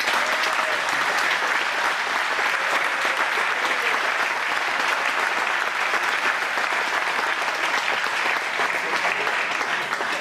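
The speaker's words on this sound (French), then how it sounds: "je voudrais qu'on leur fasse un tonnerre d'applaudissements" Loud, sustained applause for the volunteers at an awards ceremony for the youth club sport boules championship finals, a dense roar of many hands clapping continuously with no break.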